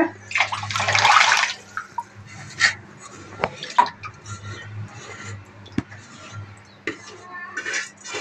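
Water splashes into a metal pot of rice, followed by scattered clinks and taps of kitchenware over a low hum.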